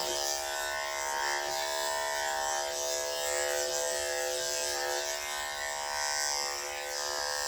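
Electric clippers buzz steadily and close while trimming a dog's coat over the hip in a teddy-style cut, a continuous whine that holds without pause and with no talk.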